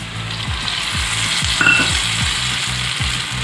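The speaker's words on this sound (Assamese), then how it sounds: "এতিয়া ভাজি লোৱা" Chicken skin fries in a pan with a steady loud sizzle, while a utensil stirs and scrapes it in regular strokes, close by and without talk.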